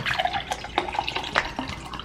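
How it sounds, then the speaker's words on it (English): Water trickling and splashing into a cup in short bursts with drips, close and fairly quiet, with no voices. "I'm just gonna put about that much water in."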